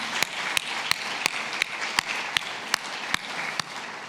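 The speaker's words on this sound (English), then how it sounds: "So a big round of applause to the team" An audience at an Afghanistan regional symposium on climate change and natural resource governance applauds the organizing team, a steady wash of crowd clapping with one sharp clap standing out at a regular beat.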